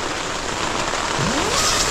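Heavy rain pouring down in a deep forest, a steady dense wash of falling water that stays loud and unbroken throughout with no voices.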